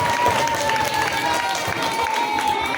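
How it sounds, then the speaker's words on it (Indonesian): Clapping from an audience at an elementary school program presentation, a steady burst of applause mixed with crowd noise and a faint tone running underneath. "Tepuk tangan untuk."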